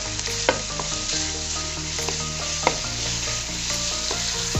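Fatty minced pork stir-fries in a pan with a steady, loud sizzle throughout, broken by a couple of sharp clacks from the spatula against the pan.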